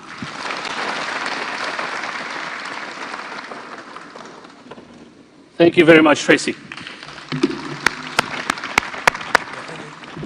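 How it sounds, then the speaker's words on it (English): An audience at a political manifesto launch rally in Kasarani, Kenya, applauds in a dense, sustained wash that slowly fades, then someone speaks over a few scattered claps and sharp taps. "I think she deserves another clap."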